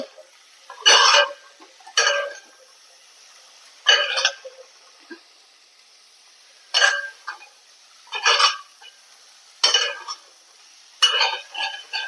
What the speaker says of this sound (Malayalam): അത് നമുക്ക് നന്നായി ഇളക്കി കൊടുക്കുക